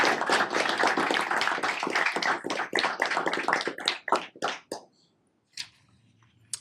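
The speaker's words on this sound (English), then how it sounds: "So one more round of applause for our Spartan TV." Applause at a school board of education meeting honoring the student Spartan TV crew: dense, steady clapping from a roomful of people that thins into scattered claps and fades to quiet after about five seconds.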